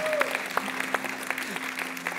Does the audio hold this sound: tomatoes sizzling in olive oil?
no